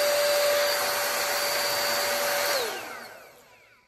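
An Aldi hot air styling brush on its cold-air setting gives a steady, loud whooshing blow with a faint motor whine, then spins down and fades out near the end.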